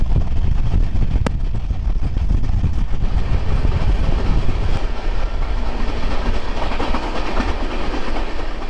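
A passenger train runs toward Ludhiana in Punjab, its steady loud rumble and rhythmic clickety-clack of wheels on rail joints continuing throughout, with a couple of sharp metallic clicks near the start and middle.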